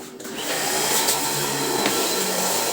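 A vacuum cleaner runs steadily and loudly throughout, a continuous close motor whine while a small room is cleaned during renovation.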